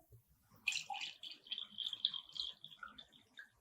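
Around 200 ml of water pours into a glass with a bright, close trickle that rises and gurgles for a couple of seconds, then tapers off. The pour is fairly quiet and has no talk over it.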